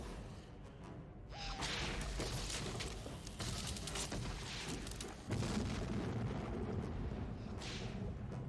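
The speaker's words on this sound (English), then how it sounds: "Actual fireworks." Movie-style explosions and fireworks-like bangs from the 1987 action film Predator rumble in a dense, sustained barrage, with whooshing bursts layered over a continuous low roar.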